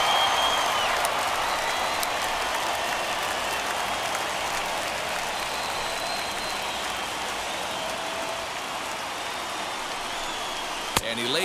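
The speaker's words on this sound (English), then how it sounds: "Crowd gets up for the 3-2." A baseball stadium crowd in MLB The Show 21 keeps up a steady roar of cheering and clapping, broad and continuous, with a sharp crack near the end.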